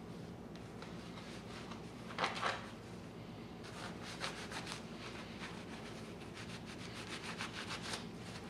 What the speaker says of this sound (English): take that old shop towel and take it back off, rub it good